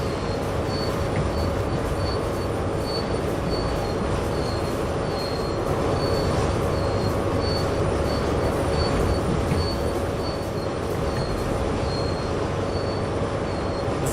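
A train rumbling along in the Train Sim World game, a steady engine drone with a constant tonal whine and rhythmic clicking of wheels over rail joints, unbroken and alone throughout.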